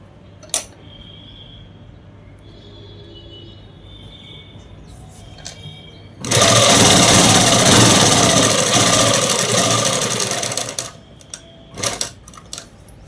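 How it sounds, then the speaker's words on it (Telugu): A sewing machine stitches dress cloth in a loud, fast, rapid-fire run lasting several seconds, with quieter clicks and handling sounds before and after it and no speech. "ఇక్కడ నుంచి ఒక 5 ఇంచుల వరకు అనేది కుట్టు అనేది వేసేసుకోండి"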